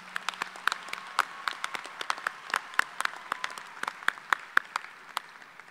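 A sparse audience at a university fall commencement ceremony claps for two graduates, distinct individual claps scattered irregularly rather than a dense roar, fairly close and moderately quiet.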